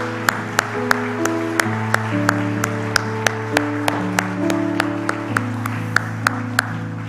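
A church congregation claps in a steady, regular beat over sustained keyboard or organ chords, the crisp claps cutting through the held tones at an even pace.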